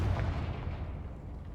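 Confringo blasting spell cast in the video game Hogwarts Legacy: a heavy, booming explosion bursts at the start, then settles into a loud, rumbling roar that continues through to the end.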